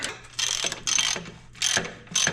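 A ratchet socket wrench with a 17 mm socket turns a bolt while tearing down a Honda CT90 motorcycle, giving four bursts of rapid, close, loud clicking with short pauses between them.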